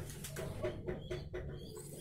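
A sick pigeon suffering from coughing, sneezing and a cold gives a few soft, low coos, faint and close against a quiet background hum.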